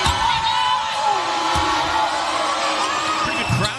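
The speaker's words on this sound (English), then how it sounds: "Pretty good crowd here in Ann Arbor on a Saturday afternoon." A large basketball crowd fills an arena in Ann Arbor on a Saturday afternoon with a steady, loud roar of voices and cheering. Occasional thumps and whoops rise out of it, and an announcer talks over the noise.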